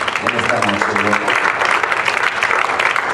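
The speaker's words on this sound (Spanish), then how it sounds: "¿Cuántos damos un aplauso al Señor?" A Pentecostal church congregation applauds loudly during an evening service, a dense, continuous clapping that starts over a brief spoken voice and carries on alone.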